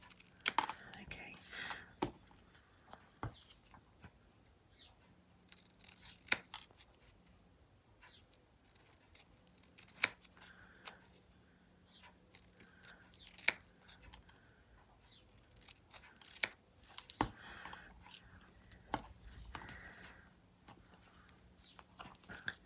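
Scissors trimming a small metallic craft charm, producing scattered crisp snips and clicks close by, with quiet talk and faint rustling in between.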